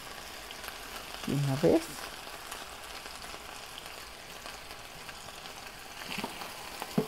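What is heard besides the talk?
stirring nopales frying with onion, garlic and salt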